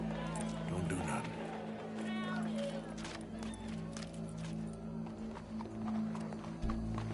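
Horse hooves clip-clop steadily at a trot in the video game Red Dead Redemption 2, a fairly quiet rhythmic beat that continues under people talking.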